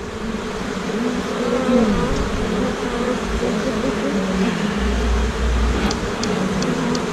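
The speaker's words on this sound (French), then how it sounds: "regardez là aussi, il y a un groupe d'abeilles là" A dense, steady hum of many honeybees buzzing close by, droning continuously throughout with a few faint clicks near the end.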